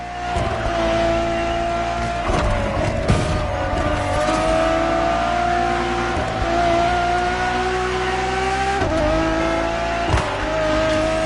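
A Ferrari Enzo supercar's engine drones steadily in The Crew Motorfest racing game, with rising and falling revs through gear changes, a loud, continuous engine note with brief tire noise.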